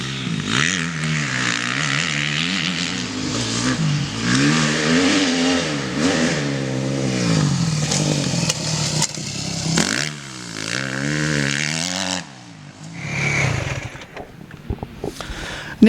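A 2010 Yamaha YZ250F motocross bike is ridden hard around the Cessnock motocross track, its four-stroke engine revving and wailing loudly up and down through the gears for a sustained pass before dropping away, then blipping again.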